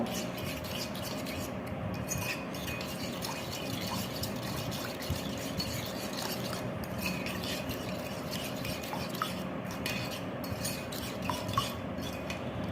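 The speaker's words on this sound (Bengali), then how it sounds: "খুব ভালোভাবে মিশিয়ে নিতে হবে দিয়ে দিচ্ছি সামান্য পরিমাণ চিনি" A spoon stirs sugar into sweet yogurt in a bowl with soft, repeated scraping and rubbing strokes, close but quiet, in a steady rhythm with no talk.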